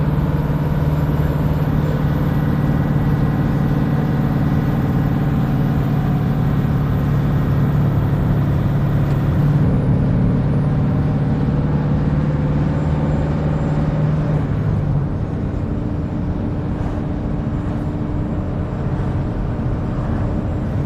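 A vehicle engine held at high RPM, a loud steady drone with a strong tonal hum that stays level for about fifteen seconds before easing off slightly, close up, with no talking.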